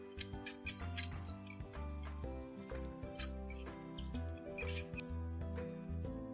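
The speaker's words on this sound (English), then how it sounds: "The mouse's sound is squeak." A mouse squeaking in quick bursts of high, thin chirps, repeated in short clusters over a soft low background with no speech.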